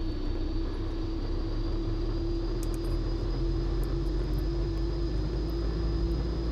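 A Pilatus PC-12 turboprop engine in the X-Plane 11 flight simulator, running as a steady, loud, even drone with a constant whine throughout and no talk.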